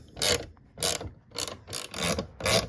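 A ratchet tightens a bolt while the fuel filler door is replaced on a 1993 Cadillac Fleetwood Brougham, giving six quick, close bursts of clicking separated by short pauses, in a quiet setting.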